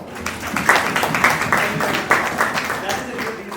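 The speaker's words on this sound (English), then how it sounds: "Can we please have a round of applause?" An audience claps at a wildlife photography talk, a steady patter of applause with a few sharper claps, while voices carry on over it.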